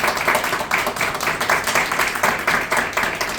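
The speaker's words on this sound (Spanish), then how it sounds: "Un gran aplauso para don Felipe Pizarro." An audience at a book presentation event claps for a featured writer, a short burst of moderately loud applause with a loose rhythmic pulse from a modest crowd.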